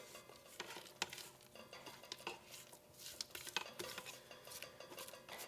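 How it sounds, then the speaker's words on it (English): A spatula scrapes around the sides of a mixing bowl of pumpkin apple gingerbread batter, giving soft, uneven scraping and clinking strokes at close range, with no talking. "we're going to scrape down our sides again just to make sure everything is being properly"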